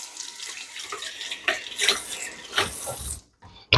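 Cool water runs from a kitchen tap into a sink in a steady, close splashing stream that shifts in pitch as it fills, then cuts off near the end, followed by a short knock.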